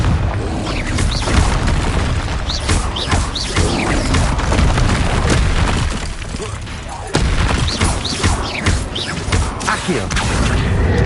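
A Confringo fire spell explodes in the Hogwarts video game, heavy booming blasts and crashing impacts over a dense rumbling game soundtrack, with a short dip partway through before the noise picks up again.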